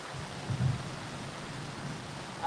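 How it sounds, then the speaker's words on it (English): Low rolling thunder rumbling through steady rain during a storm at an outdoor riverbank, a continuous deep roar that swells briefly before a sharper burst at the end. "That thunder is just a rolling and a roaring"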